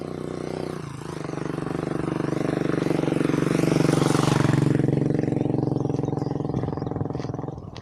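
A motorcycle passing close by, its engine drone rising to a loud peak midway and then fading as it pulls away, with a steady harmonic tone throughout.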